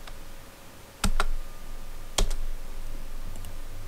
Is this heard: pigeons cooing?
no